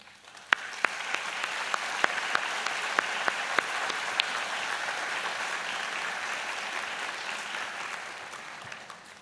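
An indoor audience at a convocation ceremony applauds steadily as staff, alumni and union representatives rise, a dense, even patter of clapping with a few sharp nearer claps near the start, fading slightly toward the end.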